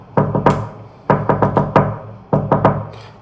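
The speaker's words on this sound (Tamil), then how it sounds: "யாராவது வந்து இந்தமாரி கதவு தட்டுற மாதிரியே இருக்கும்" Knocking on a house door late at night, three separate bursts of quick raps, three or four sharp knocks each, close and loud with brief pauses between.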